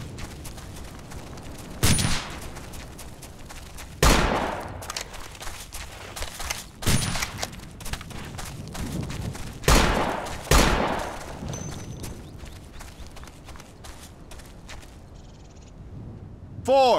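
Squad rifle fire engaging a sniper in the military video game Operation Flashpoint: Dragon Rising, several loud separate shots and short bursts spaced a few seconds apart, with radio-style voices between.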